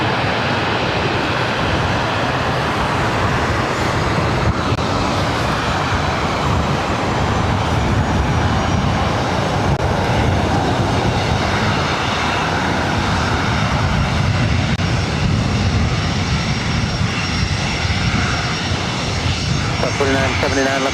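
A Southwest Airlines Boeing 737-700 lands at LAX, a sustained, fairly loud jet engine roar rumbling steadily throughout, with a person talking over it at times.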